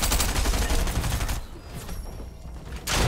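Gunshots ring out during a competitive Fortnite match, a dense loud burst at first that thins to sparse, quieter shots before another loud blast at the end, with faint voices in the background.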